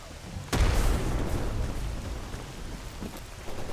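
A single grenade blast from S.T.A.L.K.E.R. lands hard and close, then fades into a rumbling tail over steady ambient noise.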